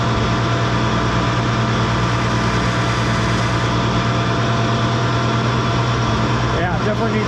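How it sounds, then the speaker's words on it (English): A 1550 engine that needs shims runs loud and steady, a dense mechanical drone with no clear rise in pitch, close by and constant throughout. "Let's rev it up just a little bit"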